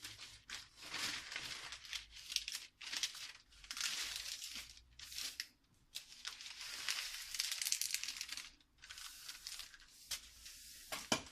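Stiff baking paper is folded lengthwise into strips to line the inside of a cake tin for a heavy fruit cake, giving close, repeated crinkling and crackling in irregular bursts with brief pauses between them.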